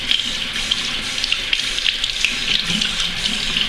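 Warm water streams steadily from a tap over a beauty blender makeup sponge at a sink, a continuous close hiss and splash with slight gurgling shifts as the sponge is moved and squeezed beneath it.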